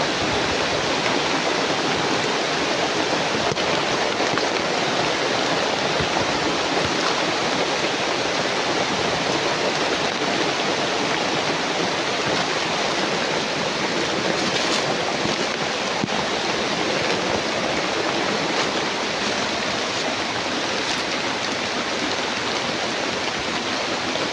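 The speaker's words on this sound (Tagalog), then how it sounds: "sobrang lakas ng ulan" Very heavy rain pours down in a dense, unbroken roar, loud and close, holding steady without pause for the whole stretch.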